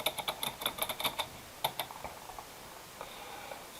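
Quick bursts of keystrokes on a computer keyboard, crisp close clicks in an uneven rhythm with short pauses, fading into quiet room tone for the last second or so.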